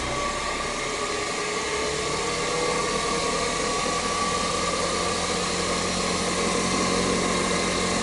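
A wood lathe spins a chess pawn blank while a roughing gouge cuts it, giving a steady, continuous machine whine and broadband rushing hum that holds at an even level throughout with no talking.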